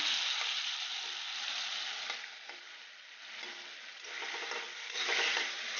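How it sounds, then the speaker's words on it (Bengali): Prawns frying in a pan, a soft, steady sizzle with gentle pops and occasional stirring scrapes, moderately close and swelling slightly toward the end, with no voices. "চিংড়ি মাছটা বেশি ভাজবো না, মোটামুটি ভাজবো"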